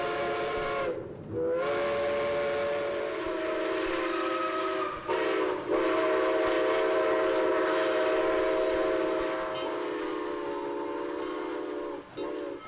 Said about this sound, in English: the engineer blows the steam whistle.